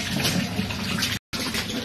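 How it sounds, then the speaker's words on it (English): A bathtub fills with water from the tap, a close, loud and steady rushing splash that stops for a short moment near the end and then carries on. "My bath is nice and hot and freezing cold."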